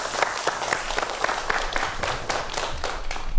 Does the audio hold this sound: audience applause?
yes